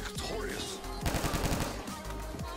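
Rapid automatic gunfire in Call of Duty custom zombies rattles in quick bursts over heavy game noise, with a fast machine-gun rhythm peaking mid-clip.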